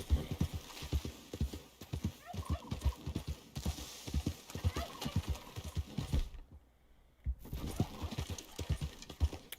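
Horse hooves from Red Dead Redemption 2 clip-clop in a quick, uneven rhythm on a slope, close and fairly loud, with a brief pause before the footfalls resume.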